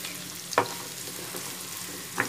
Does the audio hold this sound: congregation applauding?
no